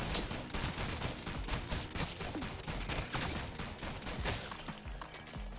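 Rapid, dense gunfire from the video game Rounds, a loud, nearly continuous stream of shots and bursts that runs without a break, with no talking over it.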